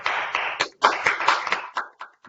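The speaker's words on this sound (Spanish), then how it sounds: "Si pueden prender sus micrófonos para aplaudir" Participants applaud over video call microphones, bursts of hand clapping that cut in and out in uneven choppy chunks, compressed and fairly loud with no talking.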